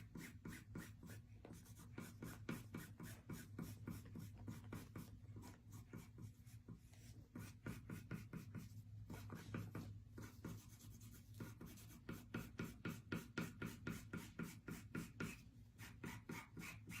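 A pencil sketching on dry fabric, rapid rhythmic scratchy strokes in close succession, quiet and close with brief pauses, no talk.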